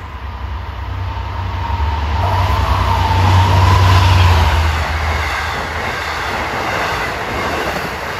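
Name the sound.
LIRR train from Penn Station to Port Jefferson passing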